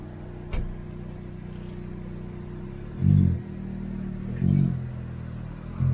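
A car pulls away in the Dagestan countryside, a steady low engine rumble running throughout with two louder surges of revving as it accelerates, fairly close and with no talk over it.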